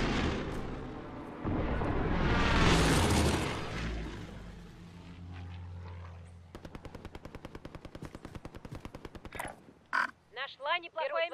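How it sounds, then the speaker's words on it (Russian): In the video game Caldera, an allied precision airstrike lands as a heavy roaring blast that swells and fades, followed by a long rapid burst of automatic fire and a few short cries. "Союзник наносит точечный авиаудар."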